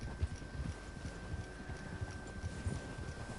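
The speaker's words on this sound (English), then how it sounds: "Trying to keep the cantering is not easy." Hooves of a cantering horse in Red Dead Redemption 2 beat a steady, soft clip-clop rhythm with a low ambient game hum underneath.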